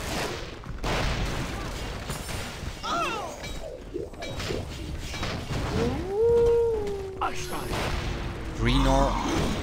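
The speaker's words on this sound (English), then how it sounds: "Mortar fire coming in." Mortar shells and explosions crash and whoosh during a Panzar fantasy game tournament match, loud bursts and a sustained tonal whine rising over constant commentary.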